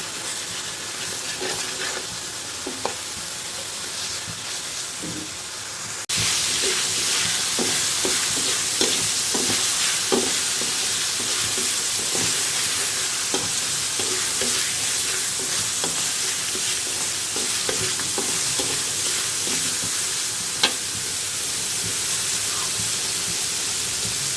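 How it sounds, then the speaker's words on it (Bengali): Onions fry in a pan with a continuous loud sizzle and hiss, broken by frequent scraping clicks of stirring, growing louder partway through and holding steady to the end. "পেঁয়াজটা ভালো করে ভেজে নিতে হবে একটু বাদামি কালার হলেই তাতে মশলা দিয়ে দেবো"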